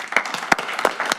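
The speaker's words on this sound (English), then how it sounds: "And to their hand clap as well for their illustrious coaches" Applause for the coaches at a county council meeting: a short burst of hand claps from a crowd in a meeting room, with individual claps audible and fairly close.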